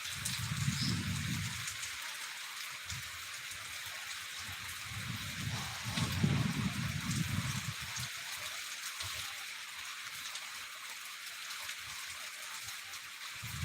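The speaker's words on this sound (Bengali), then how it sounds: "রাজশাহীতে আজকে রাত থেকেই বৃষ্টি হচ্ছে" Rain falling in Rajshahi, a steady close hiss of falling water with occasional low rumbling gusts of wind, heard alone without voices.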